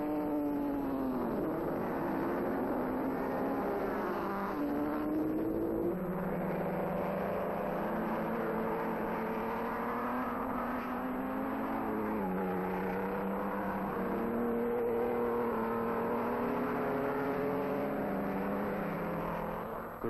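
Vintage 1930s Grand Prix racing cars, Alfa Romeo and Mercedes, race at Monaco with a steady engine drone whose pitch rises and falls continuously at moderate distance, without talk.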